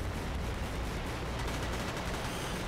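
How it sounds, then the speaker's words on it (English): Assault rifle fire in a low-budget shooter video game, a steady burst of rapid shots mixed with distant battlefield rumble, fairly faint and continuous. "I wouldn't shoot at a tank with a regular old assault rifle, but everyone else is doing it"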